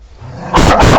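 A dog gives two or three quick, close, loud barks after a quieter stretch, with other playful dogs around in a relaxed home pack setting.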